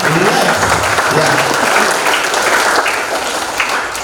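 Audience applause fills a training seminar hall, loud and sustained clapping from a crowd throughout, with no speech over it.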